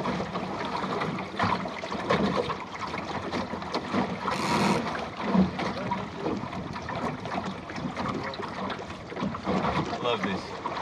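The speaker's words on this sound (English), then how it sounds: "More wind coming here." Wind rushing steadily over a sailboat under way, a broad, continuous roar with water and boat noise mixed in and buffeting against the microphone throughout.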